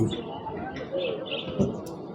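Soft pigeon coos murmur in the background of a busy outdoor pigeon market in Bukhara, with people talking nearby and occasional faint chirps.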